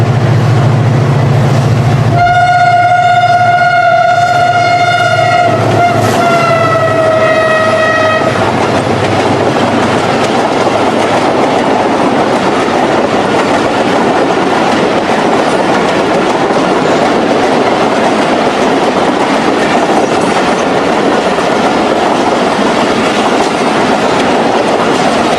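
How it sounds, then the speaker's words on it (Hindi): Locomotive hauling the 15 Up non-stop Karachi Express toward Lahore sounds a long, loud multi-tone horn blast, then passes close with a continuous heavy rumble and rail clatter of the carriages rolling by. "ये 15 up non stop Karachi express को लेके जा रहा है लाहौर"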